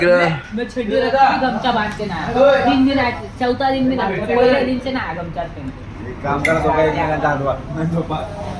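Dishes and plates clink and clatter steadily beneath continuous close talk, with small metallic chinks scattered throughout.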